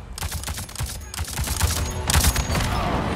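Rapid bursts of automatic gunfire crackle loudly in Avatar: Frontiers of Pandora as enemies are shot down, dense overlapping shots with heavy low thumps and no talk over them.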